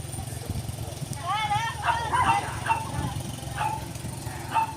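A puppy yipping and barking several times in short high bursts over an engine-like drone outdoors, with a voice speaking at the same time.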